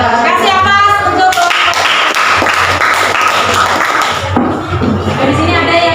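Audience applause after a classroom presentation at a teacher performance exam, steady clapping from a room of people lasting several seconds, with faint voices mixed in.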